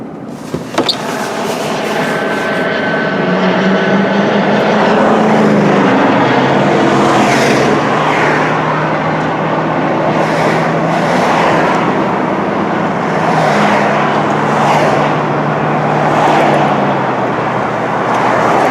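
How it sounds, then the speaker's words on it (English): A big garbage truck drives past outdoors in a community area, a loud, broad engine rumble and road roar that swells and holds for many seconds before easing slightly. "there goes the big garbage truck"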